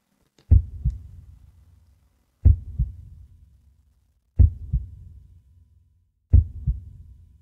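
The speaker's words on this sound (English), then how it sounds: "The slow heartbeat." Four slow, evenly spaced heartbeats, each a deep double thump with a short low rumble trailing off, about two seconds apart, with no other sound.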